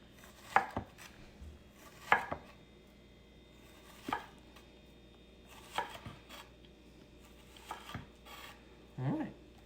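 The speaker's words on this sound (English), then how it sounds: "Alright, and there's your chopped onions." A knife rocks through an onion on a cutting board in a cooking class, giving six separate chops spaced about every two seconds, close and crisp against a quiet room.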